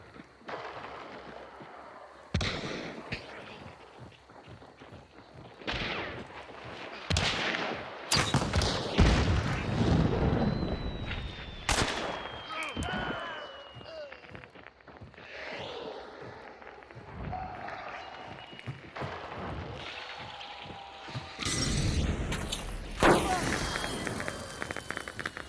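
Gunfire crackles in the Hunt: Showdown video game: sharp shots and bursts ring out irregularly amid footsteps and rumbling effects, while someone talks over the action.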